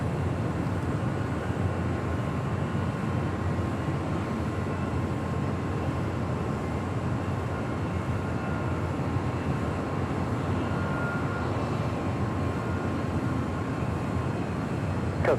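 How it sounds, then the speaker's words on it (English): A Southwest Airlines Boeing 737-800 arriving from Las Vegas on runway 25 left at LAX gives off a steady, fairly distant jet roar. It holds evenly for the whole stretch with no voices. "Next arrival on 25 left there on the south side. Southwest Airlines. Flight 2245 coming in from Vegas,"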